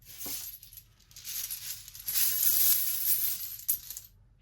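Light metallic clinks and jingles of small coins being dropped and shuffled, a cluster of chiming strikes building in the middle, fairly close and moderately loud.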